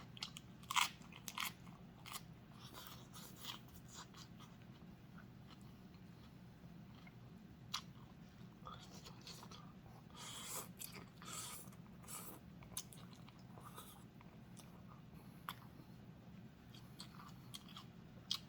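Crunchy fresh vegetables eaten with spicy Thai noodle salad, close, quiet crisp bites and chewing crunches repeating irregularly over a soft background, with no talking.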